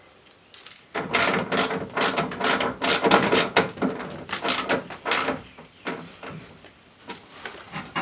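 A ratchet tightens a bolt on the power window regulator inside the door of a Mk1 NA Mazda MX5 (Eunos), giving close, irregular bursts of metallic clicking over about seven seconds.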